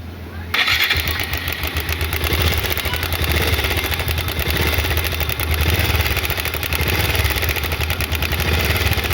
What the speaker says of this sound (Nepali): एकैछिन यो बाइकको आवाज सुन्नुस् है त।